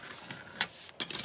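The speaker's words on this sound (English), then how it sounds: "let me just rip the paper because that's always fun" Paper torn by hand while making bags for ephemera, a few short, soft ripping bursts spread across a quiet background.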